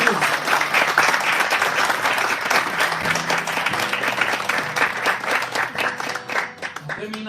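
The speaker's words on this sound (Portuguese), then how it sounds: "Dá uma forte salva de palmas no Senhor Jesus." A church congregation applauding, dense sustained clapping from many hands filling the room throughout, with a voice speaking over it.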